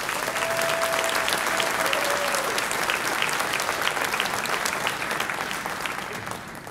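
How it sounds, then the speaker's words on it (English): A high school concert band audience breaks into dense, sustained applause filling a hall, loud and even throughout before easing slightly at the close. "So let's give them one more round of applause"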